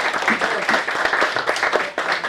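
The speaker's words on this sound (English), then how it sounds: "First of all, give them a round of applause." A short burst of clapping from a crowd at a football club's presentation night, moderately loud and continuous with no talk over it.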